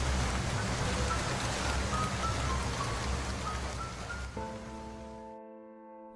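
Steady cartoon rain falls at night as a continuous close hiss, then fades out and a soft musical tone takes over.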